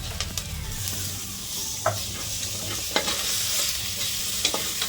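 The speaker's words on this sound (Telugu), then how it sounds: "ఇప్పుడు కింద తగలకుండా బాగా కలుపుకోవాలి." Coconut powder is stirred into a raw peanut curry in a pan, giving a continuous sizzle with regular spatula scrapes and knocks against the pan. There is no talk.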